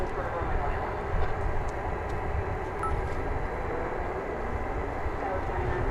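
A Boeing 767 freighter of ABX Air, Flight 102 bound for Cincinnati, gives off a steady, loud broadband engine roar that holds evenly throughout at an airport at night.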